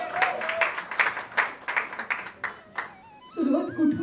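Audience applause for the cast of the Marathi film Gharat Ganpati at its teaser launch event, a burst of claps with shouts, loud and close, followed by a brief voice and renewed cheering.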